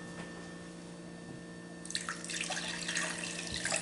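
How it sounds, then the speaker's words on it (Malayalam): Water pours into a container while making a mango smoothie, a splashing gush starting about halfway through over a low kitchen hum, close and fairly quiet. "വെള്ളം ഒഴിച്ചു."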